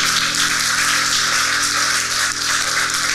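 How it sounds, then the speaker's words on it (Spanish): A church congregation applauding at an anniversary service, steady dense clapping that sounds like rain, held at an even level throughout without a break. "Un aplauso al Señor por la vida de mis hermanos."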